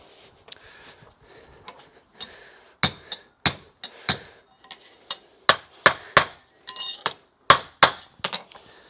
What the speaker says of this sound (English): now nailing it on